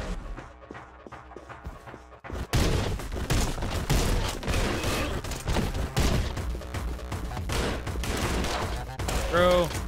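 Rapid bursts of gunfire from a new gun in the video game Anger Foot crackle loudly and close, with dense overlapping shots, then a ringing effect near the end. A voice talks briefly.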